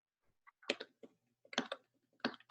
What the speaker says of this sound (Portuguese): Eu estou ouvindo você batendo aí no teclado, Julie.